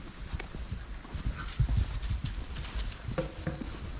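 Horses gallop across a field on the Lissan House estate in County Tyrone, their heavy hoofbeats thudding irregularly at a moderate distance, loudest in the middle, with faint outdoor ambience and no talking.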